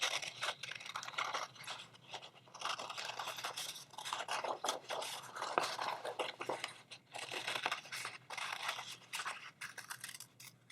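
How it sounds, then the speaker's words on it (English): Scissors snip steadily through paper, cutting out a small circle for a paper flower craft, with repeated close crunchy cuts and short pauses, no talking. "I'm just going to go ahead and cut this out"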